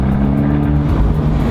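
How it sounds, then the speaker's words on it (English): A Fiat 124 Abarth in sport mode gives a loud, steady exhaust drone from inside the car, with a deep sustained engine note and no voices. "Just that exhaust just sounds so good."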